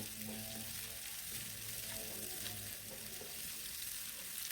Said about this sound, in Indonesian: Nah, ditumis kembali semuanya bersamaan supaya aroma baksonya nanti lebih enak, lebih gurih.